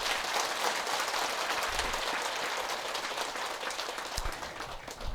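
An audience claps continuously at a Buddhist precepts ordination ceremony at a temple, a dense, fairly distant wash of applause holding steady and tapering slightly near the end.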